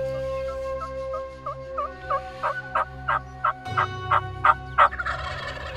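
A wild turkey gobbles in a bowhunting setting, a run of rippling calls that repeat and grow louder. A different, steadier noise rises beneath the last few gobbles.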